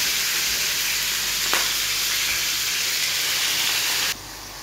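Meat sizzling loudly in a hot pan for Arabian-style biryani, a dense, steady frying hiss that holds unbroken before dropping abruptly to a quieter level near the end.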